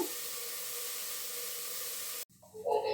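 Steady, loud sizzling hiss from food frying in a pan, running evenly for about two seconds before cutting off abruptly, followed by faint, uneven kitchen sounds.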